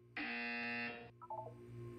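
A loud electronic buzzer from the video game Portal 2 sounds once as a steady harmonic tone for about a second, then cuts off, leaving faint game background.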